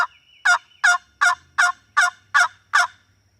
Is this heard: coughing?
no